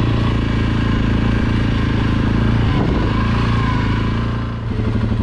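An ATV engine runs loud and steady while riding the Leetsville trail through thick woods in Kalkaska, Michigan, a close continuous drone with a slight dip near the end.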